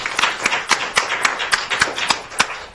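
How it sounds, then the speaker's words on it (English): Clapping after a talk on obesity as a cancer risk factor, a sparse scatter of distinct hand claps from a small group, irregular and close. "let's give a big round of applause to Dr."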